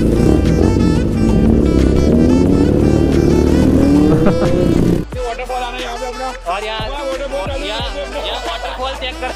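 Motorcycles, including a KTM, lined up in a bikers' group on a Sunday ride, engines revving loudly up close, then dropping to a rougher idle with sharp throttle blips.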